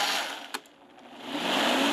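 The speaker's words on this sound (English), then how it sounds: "Now we can go ahead and puree this to a nice smooth." Blender pureeing pork chili verde with lime juice into a smooth sauce, a steady broadband whir that briefly dips mid-run and then surges back loud to the end.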